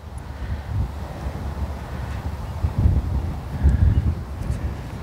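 Crosswind blowing across an open golf course, a steady low rumble of wind buffeting the microphone that swells in gusts near the end, with no talk.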